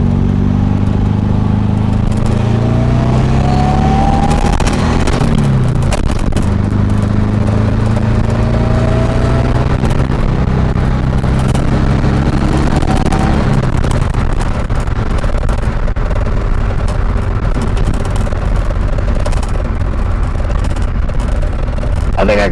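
A supercharged 1600cc VW engine with an AMR500 supercharger, in a Karmann Ghia or Beetle, drones loudly and continuously while driving, with a rising and falling supercharger whine over the engine roar.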